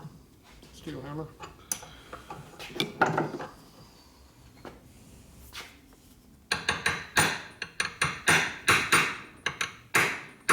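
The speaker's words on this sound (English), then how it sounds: "Steel hammer." A steel hammer strikes a stuck part on a 1973 Aermacchi Harley-Davidson 90cc X90 motorcycle engine, first a few scattered knocks among clattering tools, then a rapid run of sharp, loud metallic blows, with people talking.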